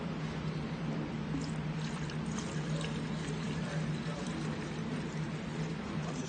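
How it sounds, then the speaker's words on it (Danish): Textile cleaner being poured into a carpet cleaner's container, a steady continuous liquid pouring and gurgling under a constant background hum, unbroken for several seconds. "så hælder vi det her tekstilrens ned i beholderen"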